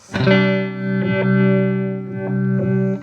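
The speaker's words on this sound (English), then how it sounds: "it's going from a clean signal to a fully phased signal back to a clean signal as well" A sustained electric guitar chord through a Chase Bliss Wombtone MKII phaser, its mix modulated so the tone sweeps repeatedly between clean and fully phased, giving a slow rhythmic swirling pulse about once a second.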